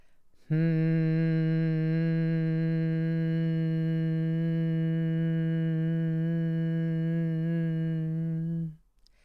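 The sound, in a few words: low steady humming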